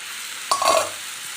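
A spoon stirs pepper and coriander-leaf country chicken gravy in a cooking pot: one short scraping, sloshing burst, close and fairly loud, then fading back to a low background hiss.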